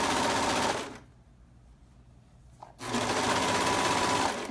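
A sewing machine runs fast and loud stitching a fabric seam on a pair of joggers, stops for about two seconds, then starts up again at full speed.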